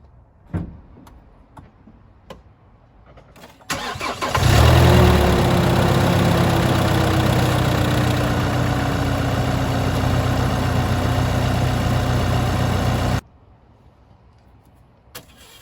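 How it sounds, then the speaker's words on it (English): A Chevrolet Express van with a 2.8 Duramax diesel engine starts and idles steadily and loudly up close for several seconds, then cuts off to quiet, with a few clicks before and after. "I'm gonna start the vehicle, let it sit for a few minutes"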